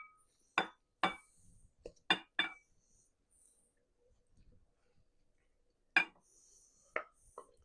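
Roasted potato salad spooned into a serving dish: a series of sharp utensil clinks and taps against the dish in separated bursts, with soft scraping between them and a quiet gap in the middle, close and fairly quiet.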